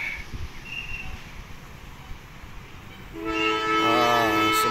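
Wind and low rumble give way to a loud, sustained horn from a Bandung Raya commuter train, blaring two tones as the train draws near, growing louder at the end.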